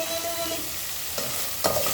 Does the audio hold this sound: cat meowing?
no